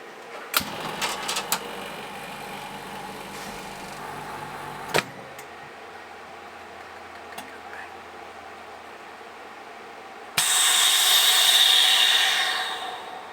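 A Vevor chamber vacuum sealer hums steadily for several seconds after a few clicks, then a loud hissing rush of air bursts in and fades out near the end.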